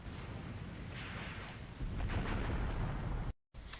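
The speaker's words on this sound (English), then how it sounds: "I think that might be, yeah, the beginning of my bombardment" An artillery bombardment in the war game Graviteam Tactics, heard as a continuous low rumble of distant blasts that swells louder partway through, then cuts out briefly near the end.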